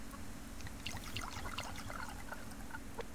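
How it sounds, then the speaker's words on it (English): Water being poured to refill a bird's water container in the survival game Subsistence, a faint continuous trickle with small bubbling splashes, steady throughout. "we're going to top the bird's water off"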